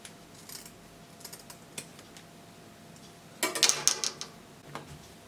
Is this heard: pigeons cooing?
no